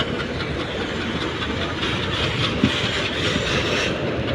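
A steady roar of a train moving into Erode Junction station fills the clip, with continuous rumbling and faint rhythmic clatter, loud and close, with no voices.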